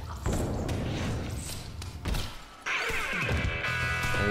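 A heavy smashdown impact from the fiery Smash Breaker ball in Dangerous Golf: a few loud thuds and crashing hits, followed by a sustained bright rumble as things break apart.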